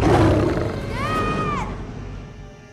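A lion roars in the film Beast, a loud, rough growl rising into a tonal, wavering roar over a rumbling background for about two seconds before fading.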